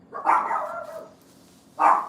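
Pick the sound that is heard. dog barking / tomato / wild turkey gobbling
dog barking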